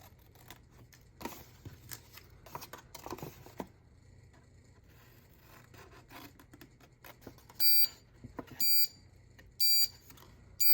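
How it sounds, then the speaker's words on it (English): A timer alarm goes off during a crafting session making coin envelopes, giving four short loud electronic beeping bursts near the end after quiet rustling and handling noises. "There's our timer."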